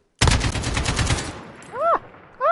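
An AK-47 style rifle in a multiplayer video game fires a rapid, loud full-auto burst of about a second, followed by a few synthetic whooshing game effects.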